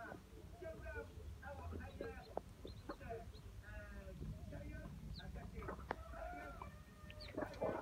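Hybrid laying hens cluck and squawk in a busy, continuous chorus, with overlapping calls and occasional sharper cries from a nearby flock.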